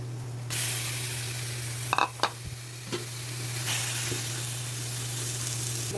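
Meat sizzles in a frying pan as its own fat renders out, a steady close hiss that runs throughout, broken by a few clinks and scrapes of stirring.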